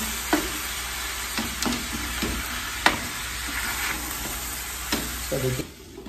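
Pork ribs sizzle steadily in a pan while being pushed around, with several sharp scraping and knocking hits from the utensil against the pan, fairly close and without talk.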